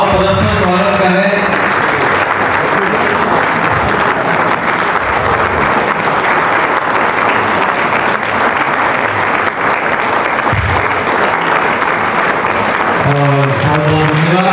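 Sustained audience applause welcoming guests at a 108-kundiya Gayatri yagya gathering in Kusmunda, Korba, steady and dense for the whole stretch, with a voice speaking briefly over it at the start and again near the end.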